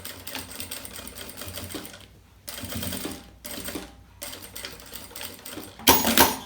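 Sewing machine topstitching a zipper seam on a child's bag, running in several bursts of rapid stitching separated by short pauses, close and moderately loud.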